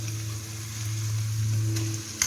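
Onion and ginger garlic paste frying in a pan, a steady close sizzle with a faint stir or scrape near the end.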